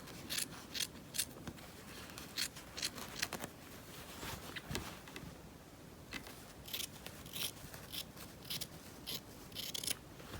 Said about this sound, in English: I can trim some of this in the seam